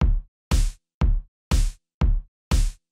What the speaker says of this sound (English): The first one is distorting it a bit.